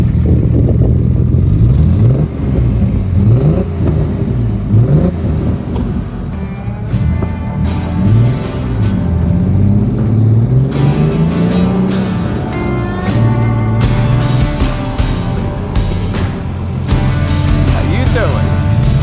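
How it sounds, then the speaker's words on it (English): A 1966 Mercedes-Benz 230 SL Pagoda with a 4-speed and upgraded sport exhaust runs at close range, a low, steady engine rumble with some revving and clatter, while people talk over it throughout. "With the upgraded sport exhaust, it just sounds nice."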